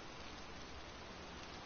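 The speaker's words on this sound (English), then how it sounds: "It's been raining all day." Steady rain in the video game Heavy Rain falls as an even, dense hiss of drops, continuous and faint, with no voices over it.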